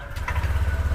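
A Honda Vario 150 scooter with combined braking and idling stop system runs nearby in the rain, its engine giving a close, even, low putter for a brief moment.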